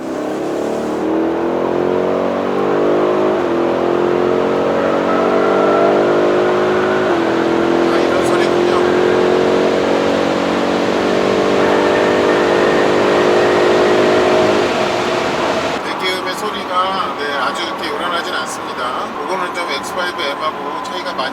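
A BMW X5 M50i engine with sport exhaust, set in Sport Plus, revs and climbs steadily in pitch during a long acceleration from inside the cabin, then drops off as the drive continues more quietly.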